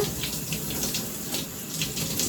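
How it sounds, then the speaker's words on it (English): Steady running water from a tap while shampoo is rinsed out of hair, a continuous close hiss with soft splashing and no talking. "You really want to make sure that you're rinsing right back here in the nape area"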